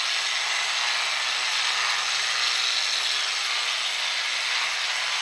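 Polishing pad working a crack repair on a granite countertop at 800 grit, a steady high-pitched whirring hiss with a faint low hum underneath, continuous and close with no talking.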